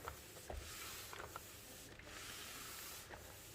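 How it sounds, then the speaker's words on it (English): A Shark VacMop scrubbing and mopping a floor, giving a faint, steady rubbing swish with a few soft scrapes and no talking. "Then you mop. Just like this. You just scrub it just like that."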